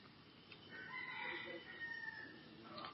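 Chickens, with a rooster crowing in a drawn-out cock-a-doodle-doo and some clucking, moderately near but somewhat faint against a noisy background.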